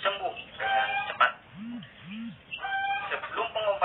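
A Bangkok chicken suffering from a snoring respiratory illness clucks and calls close by, with a few low, rasping breath sounds between its vocalizations, under steady background noise.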